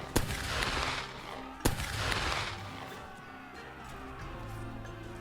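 Gunfire in a Siege of Edo battle in a Rising Sun video game, with two sharp nearby shots standing out above a dense, rumbling wash of distant battle noise.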